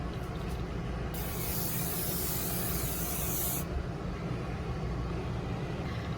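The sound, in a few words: hairspray sprayed over makeup as setting spray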